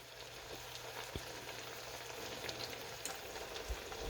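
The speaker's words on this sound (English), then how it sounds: "These apples are frying." Steady, soft sizzling of apples frying in a pan, a constant crackle with occasional small pops, no voices.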